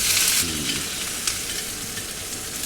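Pork fat and shallots fry in a pan for pork larb, a bright hissing sizzle that starts loud, then settles into a steady crackle with light stirring and scraping.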